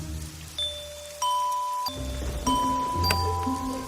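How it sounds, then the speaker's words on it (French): Bell-like chimes sound one after another in a slow tune, each note ringing clearly over soft patter that resembles rain. "Elle doit sonner un air sur les cloches"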